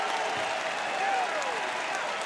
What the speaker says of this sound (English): But a great ovation from this West Virginia crowd